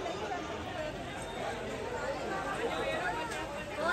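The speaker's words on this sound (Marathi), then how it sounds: "खूपच गर्दी आहे इथे" Dense crowd chatter fills the crowded Krishna temple in Mathura, a steady babble of many voices at moderate distance with no single speaker standing out.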